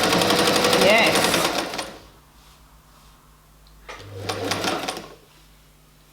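An unboxed new domestic sewing machine running in reverse stitch, two close bursts of rapid mechanical whirring and needle clatter separated by a quiet pause, with a brief spoken word near the start.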